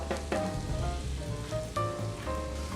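Garlic sizzles in a pan with whole spices (bay leaf, cinnamon sticks, dried lemon, cardamom and clove), a steady soft crackle with a few sharper pops and faint clinks.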